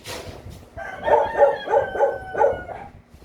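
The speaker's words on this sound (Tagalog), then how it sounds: "Aha, ingay ng aso." A dog barks about five times in a quick, steady series, fairly close and loud, with no other sounds around it.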